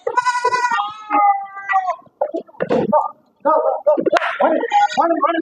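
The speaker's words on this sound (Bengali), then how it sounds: "দর্শক শ্রোতা, আপনারা দেখতে পাচ্ছেন মাশাআল্লাহ খুবই সুন্দর ছাগলগুলো।" Goats of an improved breed on a large goat farm in Bangladesh bleat in several close, wavering calls, mixed with someone talking throughout.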